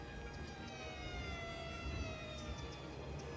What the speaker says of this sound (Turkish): Vızır vızır itfaiyelerim çalışıyor.